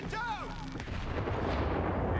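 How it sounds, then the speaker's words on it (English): A hand grenade explodes in the shooter game Stalker 2: Heart of Chornobyl, a heavy booming blast with a long rumbling decay, heard after a brief whine of game sound and moderately loud. "You just drop a hand grenade on himself?"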